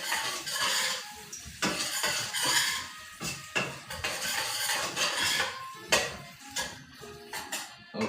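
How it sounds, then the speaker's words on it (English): Vegan Nigerian okra soup is stirred in a pot with a utensil, giving repeated clinks, taps and scrapes against the metal in an uneven rhythm, close and moderately loud. "give this a little stir"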